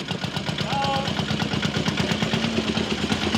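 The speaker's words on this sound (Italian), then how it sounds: "Quanti anni ha questo trattore? È degli anni 50." Vintage tractor from the 1950s runs with a rapid, steady low-pitched thumping engine beat, close and loud throughout.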